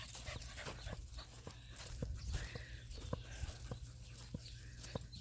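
A dog panting on a farm homestead, quick rhythmic breaths heard close and fairly quiet, with light shuffling steps and faint background sounds.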